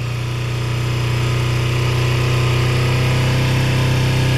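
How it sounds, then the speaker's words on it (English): A 2006 Kawasaki Ninja 250R motorcycle engine idles while warming up, a loud steady low hum with an even rapid pulsing rhythm, close up and unchanging for several seconds, no talk. "as it warms up, the RPM start going up, so I keep decreasing"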